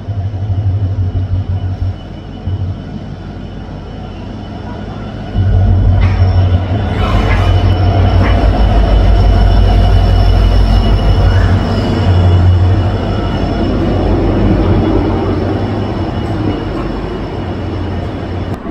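A passenger train with a Vistadome coach rolls into Dibrugarh railway station and comes to a halt, a loud, steady low rumble of wheels and carriages that swells midway and holds, with faint squeals and clanks, no talking.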